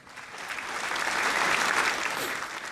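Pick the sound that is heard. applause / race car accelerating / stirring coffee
applause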